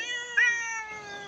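A cat meows softly but clearly, one drawn-out, slightly rising call with a brighter peak partway through, close by in a quiet room.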